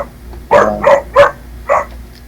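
A dog barks four times in separate sharp bursts spaced about half a second apart, fairly close and loud, with no talking over them.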